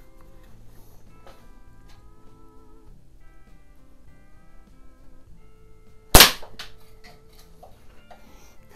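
A Walther LGR air rifle fires a single sharp, close crack followed by a brief decay, set against a quiet background with faint ticking tones and no speech.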